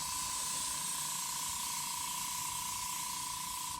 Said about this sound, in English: Got a good spray going here.